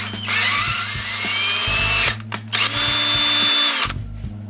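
An electric drill drives an 8x1.25 tap to cut fresh threads, making two long, loud, close whirring bursts with a short pause between them.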